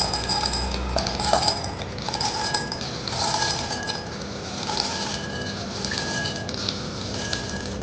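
Chickpeas being tipped from a large bowl into another bowl, with clinks of a spoon against the dish and soft rattling and scraping, sounding close and intermittent.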